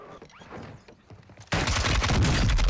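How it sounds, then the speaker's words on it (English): Assault rifle fire in Warzone 2 erupts halfway through as a loud, dense, rapid burst after quieter scattered noise, continuing close and heavy to the end. "Three shots from his AR, I'm dead?"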